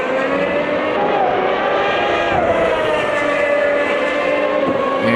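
Formula One HiTech Gen 1 cars race around Interlagos in the AMS2 racing game, a loud, continuous, high-revving engine whine that shifts in pitch as the cars pass, with no talking.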